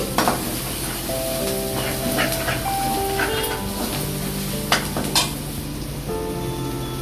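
Half a teaspoon of ginger garlic paste fries in a pan for egg curry, a continuous sizzle with occasional stirring clinks under a simple melodic tune.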